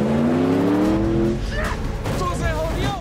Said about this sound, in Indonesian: dengan cepat Travis menjigjagkan mobil agar si perampok terjatuh